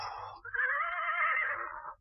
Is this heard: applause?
no